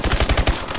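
Rapid automatic gunfire in the Call of Duty Advanced Warfare video game, a loud, close burst of evenly spaced shots firing about ten per second for under a second.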